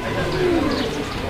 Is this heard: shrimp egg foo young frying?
no